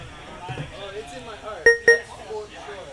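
A desktop computer sounds two short, sharp electronic beeps in quick succession midway through, standing out over nearby talk and background game audio.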